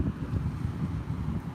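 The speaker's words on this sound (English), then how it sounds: "It's a little windy out there, so we'll see." Outdoor wind rushes and buffets steadily against the microphone as a low, rumbling roar that fills the whole short stretch with no voices.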